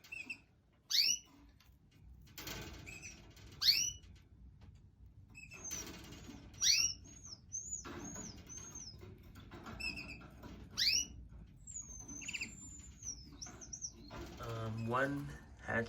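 Canary mother in a nest with two newly hatched chicks: repeated short, high chirps and tweeting calls come in quick bursts with some sliding whistled notes, fairly close over faint background rustle.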